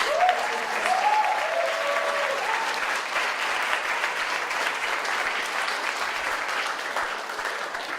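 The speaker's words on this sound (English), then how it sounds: "Let's give them another round of applause as they are." An audience at a debate championship gives the teams a sustained round of applause, dense and even, with a voice or cheer briefly rising over the clapping near the start.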